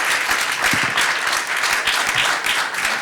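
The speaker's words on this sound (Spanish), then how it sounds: "Un aplauso para ellos." An audience at a philanthropy forum applauds the speakers with sustained, fairly loud clapping, individual hand claps standing out near the front, with faint murmurs underneath.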